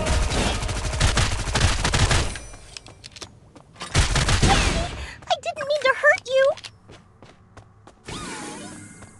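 Grenade launcher firing in the Ride Out Heroes video game, loud dense bursts of explosive rapid fire with booms, separated by quieter stretches of whooshing effects and tonal game sounds.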